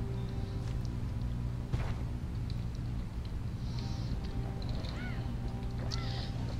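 Birds in the video game Bastion give a few short chirping calls over a steady low game ambience and music, the calls brief and spaced out near the end.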